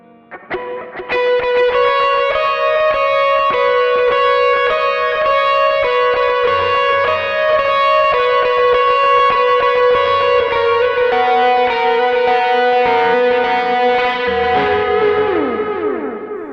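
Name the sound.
electric guitar lead with boost and delay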